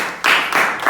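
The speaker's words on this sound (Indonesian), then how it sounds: "Tepuk tangan dulu untuk kelompok 2." A classroom of students gives a short burst of hand clapping in a few uneven, loud pulses up close.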